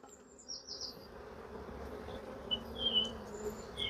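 Honeybees humming at open brood frames of a hive in a low, steady buzz, with a few brief high chirps over it.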